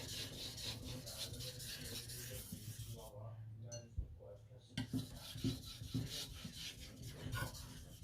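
A knife edge is drawn lightly across a sharpening stone in repeated gritty rubbing strokes, close and soft, with a short quieter pause midway and a faint clink.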